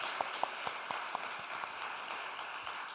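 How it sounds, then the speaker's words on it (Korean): A church congregation applauds steadily at moderate distance, a dense even patter of many hands with a few sharper claps standing out, no voices over it. "우리 박수로 한번 격려할까요?"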